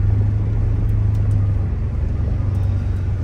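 A car engine idles steadily, a continuous low rumble and hum throughout with no talking.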